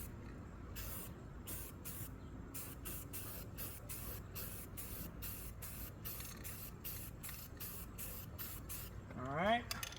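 A spray can lays an even coat over repaired welds in a rust repair, with about twenty short, rhythmic hissing bursts close to the listener, followed by a brief rattle at the end.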